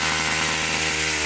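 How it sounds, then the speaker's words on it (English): A small chainsaw runs steadily at high revs while cutting down unwanted young trees in a yard, a loud, close, continuous buzzing whine with no talk. "with a little chainsaw."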